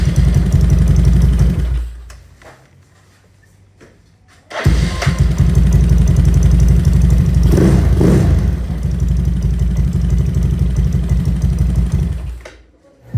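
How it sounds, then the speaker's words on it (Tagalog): Yamaha Mio Sporty scooter with a quick throttle fitted: the engine runs loud and close, cuts out, then restarts and holds a steady roar with a brief rev before stopping again. "Testingin nga natin ulit mga boss yung starter natin dito."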